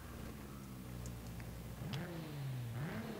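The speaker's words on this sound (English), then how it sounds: "the car does rev a little bit nicely" A 2020 Nissan GT-R Nismo V6 engine revs in a video game with a smooth climbing pitch, dips briefly, then rises again, heard faintly under a hissy background.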